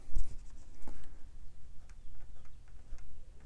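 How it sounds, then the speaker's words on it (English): Ink pen nib scratching across paper as thicker lines are inked with extra pressure, a soft close scraping of short strokes and brief taps, fairly faint and alone. "that thicker line, just applying more pressure to the nib"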